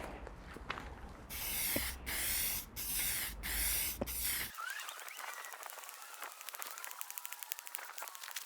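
Spray gun laying the third and final coat of paint on a repaired MG TF front wing, with several loud, close bursts of hissing spray separated by brief pauses, then a quieter tail of ticking and rustling.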